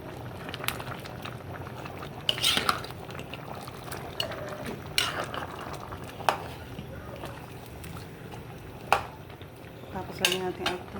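Pork ribs and white beans in tomato sauce are stirred in a pot while they simmer. Soft bubbling runs under sharp, irregular clinks of a utensil against the pot, and a voice is faintly present.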